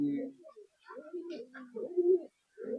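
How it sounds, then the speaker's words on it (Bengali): Male pigeons in a loft give soft, throaty coos, close and fairly quiet. Several rolling, rising coo phrases are broken by short pauses. "দেখো বন্ধুরা আবারও একটা নর পায়রা দেখাচ্ছি আপনাদের"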